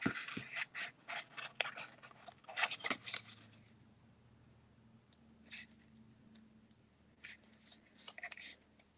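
A bone folder is drawn over folded paper to sharpen the creases, giving faint, close scratchy swipes in short bursts separated by quiet pauses.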